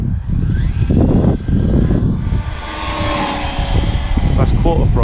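A Traxxas UDR 6s RC truck at full throttle gives off a loud, continuous electric motor whine with rising and falling pitch and a steady roar of tires and drivetrain, close to the microphone for the whole clip.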